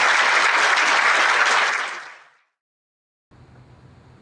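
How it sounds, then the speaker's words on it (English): Audience applause at a public affairs event on Illinois pensions, a loud burst of clapping that fades out over a couple of seconds into silence, followed by a quiet low hum. "How about a big round of applause for our people?"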